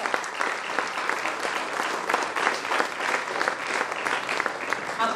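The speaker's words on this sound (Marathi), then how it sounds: "टाळ्या वाजत राहिल्या पाहिजे" Sustained audience applause at a lifetime achievement award ceremony, dense rippling clapping from a large crowd, steady and fairly close throughout.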